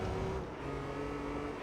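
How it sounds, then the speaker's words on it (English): A four-wheel drive car in Gran Turismo 3 drifts with a steady engine drone, a brief sustained hum that dips slightly and holds, fairly quiet with no voices. "Drifting in a four-wheel drive car,"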